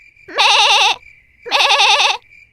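Two loud, wavering sheep bleats, each nearly a second long, separated by a short pause with faint background noise.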